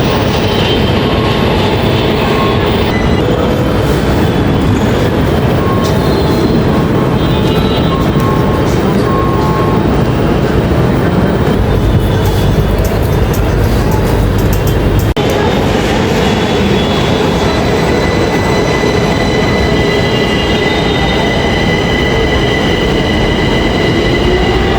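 Loud, continuous rumble of a small Gurgaon Rapid Metro train in Cyber City at night, from inside the carriage, with rolling wheel noise and occasional high squeals, steady throughout.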